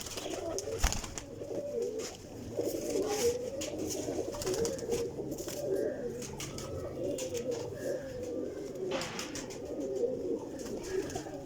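Several teddy pigeons kept together coo in soft, repeated throaty phrases, overlapping at a moderate distance over a low background hum, with occasional light thumps and no speech.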